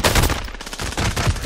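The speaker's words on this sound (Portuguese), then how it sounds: "deu um bocado de tiro nesse cara" Dense, rapid bursts of gunfire from a shooting video game, loud and close, with several volleys overlapping into a continuous rattle and no talk.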